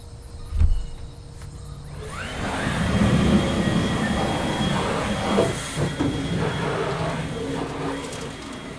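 A leaf blower starts up and blasts air into a pellet stove's blower fan. A sharp bump comes first, then a loud, steady rushing hiss that swells and holds close.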